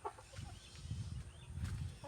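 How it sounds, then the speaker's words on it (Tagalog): Backyard chickens cluck softly and steadily while being fed leaves by a child, a low continuous murmur of clucks close by, with no clear talk. "Gustong-gusto niyang pinapakain ng dahon yung mga manok."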